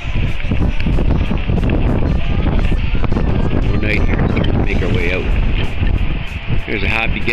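Gusty wind roars against the microphone on a canoe trip while people talk and shout nearby, with a constant loud rushing backdrop.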